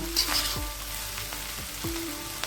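A spatula stirs slit green chillies through mixed fried rice in a sizzling pan, with a few sweeping scrapes over a constant low frying hiss.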